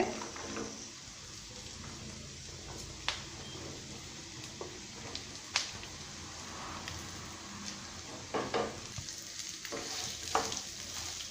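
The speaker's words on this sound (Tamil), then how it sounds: "பீக்கங்காயை சேர்த்துட்டு நல்லா வதக்கிக்கோங்க" Chopped ridge gourd sautés with onions in a hot pan, giving a steady sizzle broken by sharp spatula clicks and scrapes against the metal, close and without voices.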